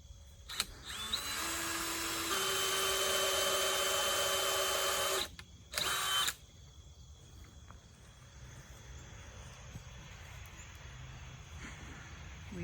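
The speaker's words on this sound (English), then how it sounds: "Drill, please." A power drill whirs steadily for several seconds while building a wooden picket fence, stops briefly, then runs again in a short burst before falling quiet to faint background noise.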